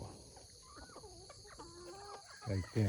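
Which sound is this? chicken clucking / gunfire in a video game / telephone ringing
chicken clucking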